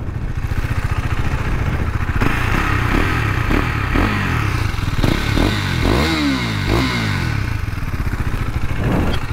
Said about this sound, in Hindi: एग्जॉस्ट नोट आपको सुना देते हैं.